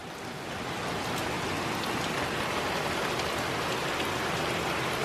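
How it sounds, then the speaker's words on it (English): Heavy pouring rain on a hot day, a dense, even roar of water hitting the ground and puddles that holds loud and constant throughout. "Oh my God, it's pouring."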